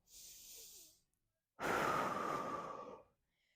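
A person breathes deeply during a full-body stretching class: a soft, airy inhale, a pause, then a longer and louder exhale, all close to the microphone with no talking.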